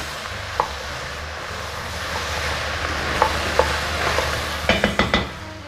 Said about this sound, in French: Je vais bien remuer pour bien laisser le butternut et l'oignon s'imprégner du bouillon de cube.